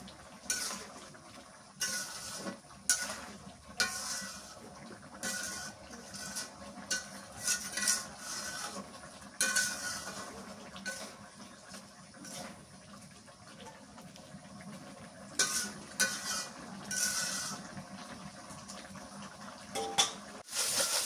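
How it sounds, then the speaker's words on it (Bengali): Curry being sautéed and stirred in a pan with a metal spoon, giving repeated scraping and clinking strokes in an irregular rhythm over a steady low sizzle, fairly close and moderately loud, with no talking. "কষানো হয়ে গেল, এখন আলু দিয়ে ফের আর একটা কষানো করে নিই"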